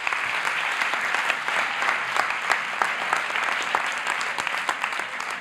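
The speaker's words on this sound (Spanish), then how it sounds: "venga, un aplauso" A crowd at a teachers' pedagogy conference breaks into loud, dense applause, many hands clapping continuously and evenly throughout without a pause.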